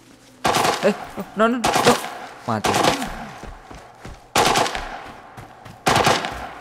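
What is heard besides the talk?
gunfire in the video game Arena Breakout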